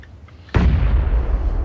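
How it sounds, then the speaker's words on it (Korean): A single grenade explosion in the battle-royale game PUBG: a sudden loud boom after a quiet moment, followed by a long rumbling tail that lingers to the end. "수류탄? 제가 던진 거예요."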